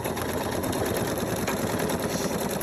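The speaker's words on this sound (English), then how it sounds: "So what I do now is I will just start on my line and start stitching." A Pfaff Creative 4.5 embroidery and sewing machine runs at a steady pace, its rapid needle chatter and motor whir filling the short stretch without pause.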